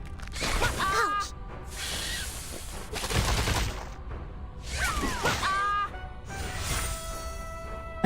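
Fireworks and crackers go off in the video game Reverse 1999 as several bursts of popping crackle, each with whistling, sweeping tones riding over them, separated by short gaps.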